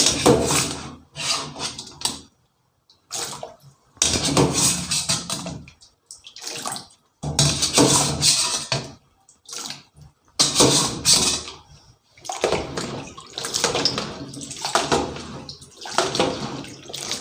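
Cooked ginkgo nuts are tipped into a bowl of cold water, making close, splashy bursts of pouring and sloshing water that come in several separate pulses with short quiet gaps between them.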